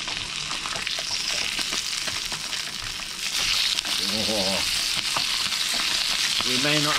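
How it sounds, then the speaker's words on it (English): Fish frying in a pan aboard a boat on a bay mooring gives a steady close sizzle and crackle throughout, with a few brief voices and tonal sounds breaking in over it near the end. "We may not have any fancy stuff, but that looks good. Proper fish fry."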